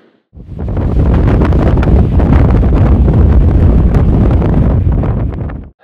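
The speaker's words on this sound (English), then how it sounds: "it's got windy on Luke's Mountain" Strong wind on a mountain campsite roars steadily and close, buffeting with a loud, continuous rush for several seconds, then it cuts off abruptly.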